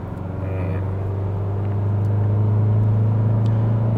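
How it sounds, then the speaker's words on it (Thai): An Isuzu 2.2 Ddi MaxForce diesel engine accelerating while driving, heard from inside the vehicle as a steady low drone that rises gradually in loudness and pitch, with no talking. "ความเร็วไม่เกิน60โอเคนะฮะนี่เติมคันเร่งกันต่อนะฮะ"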